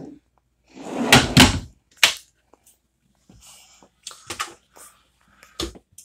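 Drawer and cabinet hardware in the kitchen of a 2008 Monaco Dynasty motorhome, giving several sharp wooden clacks and thumps as drawers slide open and shut, spaced irregularly and close by, with no talk.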